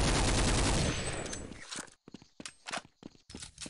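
Rapid AUG rifle fire in the Counter-Strike Beta 6.5 game on the de_aztec map, a loud burst that rings out and fades, followed by several short, separate shots and clicks with gaps between them.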